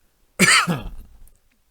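A single close, sharp cough, followed by a short fading tail, then silence.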